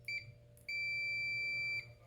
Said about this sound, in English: once I touch these together, you'll hear a beep.